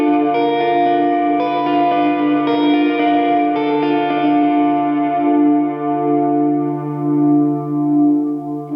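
Walrus Audio Slö multi-texture reverb pedal swelling with its Rise function: sustained guitar chords bloom into a lush, shimmering reverb wash that slowly decays, loud and close with no talking.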